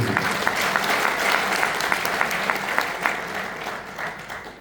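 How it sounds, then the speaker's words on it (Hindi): Sustained applause from a seminar audience at a Hindi business talk, a dense steady patter of many hands clapping at moderate volume with no voices over it for the whole stretch. "जोरदार तालियां आप सबके लिए"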